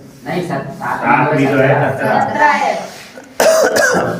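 A person coughs and clears their throat in a drawn-out, rough burst, followed by a short, sharper cough.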